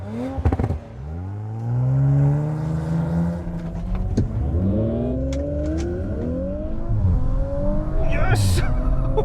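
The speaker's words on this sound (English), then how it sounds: "I'm going to put it in launch mode and just launch it." A 2019 Audi RS4 launching hard from a standstill in launch mode, its engine revving up through rising gear pulls with a loud, close, continuous roar and brief shift breaks, a voice speaking over it.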